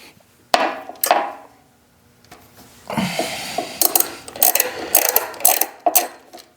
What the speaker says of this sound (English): And then we're gonna remove the drain plug.